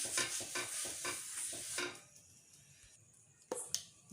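Oil is spread across a hot dosa pan with a few soft brushing strokes in a quick rhythm, then a quieter stretch followed by a couple of sharp light clinks near the end, close and fairly faint.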